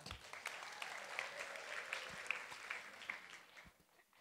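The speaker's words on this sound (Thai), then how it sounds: "ขอเสียงปรบมือ" Sustained applause from a church crowd at a Christmas sermon, a steady wash of clapping that fades slightly toward the end.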